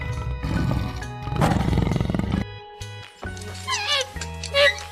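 A tiger roars loudly and close in two deep, rough bursts, followed by quieter growls and rumbling snarls that trail off.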